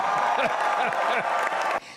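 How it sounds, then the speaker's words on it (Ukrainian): Supporters at the Christian Democratic Union headquarters on election night applaud and cheer, a steady crowd clapping heard under a narrator's voice before it cuts off abruptly. "Оплесками зустрічають попередні результати виборів у штабі Християнсько-демократичного союзу"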